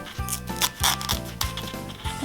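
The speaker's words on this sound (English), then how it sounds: "my scissors are a little dull" Dull household scissors snipping through ribbon for a Christmas tree craft, several rough, rasping cuts in an uneven rhythm, close up with no talking.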